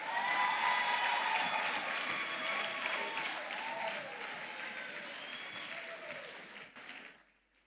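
A ceremony audience applauds in a sustained, fairly distant wash of clapping with faint cheering, holding steady before thinning and fading out near the end.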